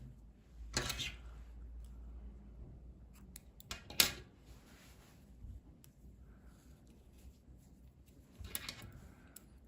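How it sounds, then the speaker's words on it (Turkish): Scissors snipping crochet yarn, a few quiet, crisp cuts spaced apart against a faint, hushed room background. "İpliği kesiyorum"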